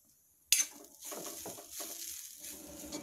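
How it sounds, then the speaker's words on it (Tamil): Grated coconut roasting in a pan for sweet rava bonda: a sudden clatter opens, then soft, quiet stirring and scraping with faint sizzle in an otherwise still kitchen. "நல்லா வறுந்துருச்சு, வாசம் வர மாதிரி நல்லா வறுந்துருச்சு."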